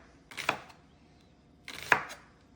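An onion being sliced thin with a knife on a board, two separate bursts of cutting strokes with a quiet gap between them, close and clear with no talk.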